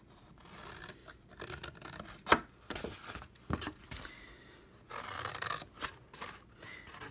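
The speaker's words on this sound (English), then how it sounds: "And then I'm going to cut all of these." Scissors snip through paper pieces cut at an angle for a handmade craft box, a series of close, crisp cuts with short rustling and scraping between them, no talking.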